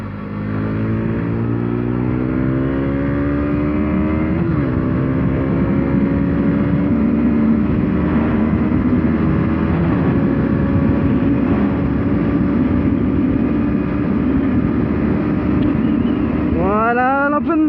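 A 2017 KTM Duke 125 ABS motorcycle pushed toward top speed, its engine drone climbing steadily in pitch through the gears with a shift near the start and another rising surge at the end, loud and close with wind noise.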